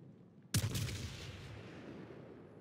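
A World of Warships battleship fires a six-round main-gun salvo, a single sudden loud boom followed by a long rumbling decay, with no talk.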